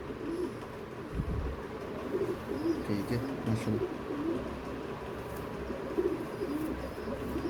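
Pigeons coo softly in a low, continuous murmur, a mix of parai and mulayam teddy pigeons with long tails at an Urdu-speaking breeder's loft, while someone talks over them.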